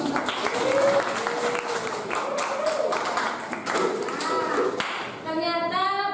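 A classroom group claps, a dense patter of hands mixed with voices calling out and tonal whoops over the top.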